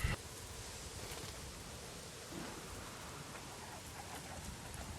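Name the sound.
rainstorm in the video game Days Gone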